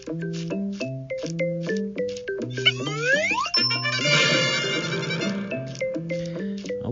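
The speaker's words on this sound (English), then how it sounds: "Ooh, there's a bell." Bright toy chimes ring in quick tinkling notes for several seconds, joined midway by a busy cascade of jingling and bell-like tones. No one talks over them.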